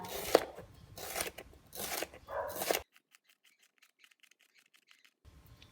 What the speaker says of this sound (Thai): ซอยเป็นชิ้นยาวๆก่อนนะคะแล้วค่อยหั่นเป็นชิ้นเล็ก ๆค่ะ